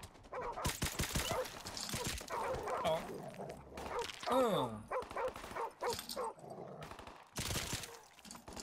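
Dogs barking and yelping in the video game Call of Duty: Modern Warfare Remastered, several bursts mixed with gunfire and game sounds, with a player briefly speaking.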